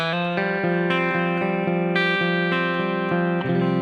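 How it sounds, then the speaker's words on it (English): Electric guitar notes picked in a steady run through a Blue Sky plate reverb, each ringing into a smooth, lush reverb tail that blurs the attacks together. "I'm going to add the Blue Sky reverb. Kind of a plate reverb right now."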